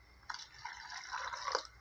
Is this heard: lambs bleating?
no